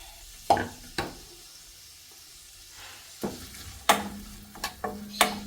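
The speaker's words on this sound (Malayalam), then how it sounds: "നമുക്കതിലേക്ക് സവാള ഇട്ടെടുക്കാം" Sliced onions soften in oil in a pan on the stove for a brinjal and mushroom gravy, a faint low sizzle punctuated by several sharp spatula knocks and scrapes against the pan at irregular intervals.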